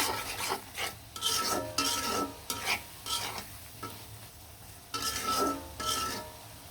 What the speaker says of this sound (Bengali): মাছ আর পেঁয়াজগুলো কিন্তু মশলার সাথে একদম সুন্দরভাবে আকারভাবে কষিয়ে নিব